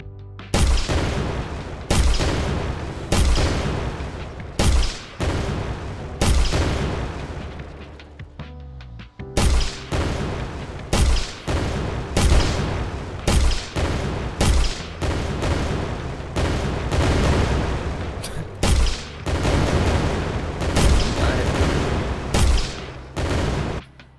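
An explosion sound effect in Unreal Engine is triggered again and again, giving a long run of loud, sharp booming blasts at irregular short intervals with no talking.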